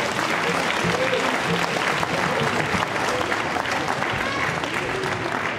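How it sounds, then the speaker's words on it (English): Warm applause fills a reception room for the Who's Who in Black Columbus unveiling, dense continuous clapping from the crowd with faint voices mixed in. "Let's give Spig Williams a round of applause"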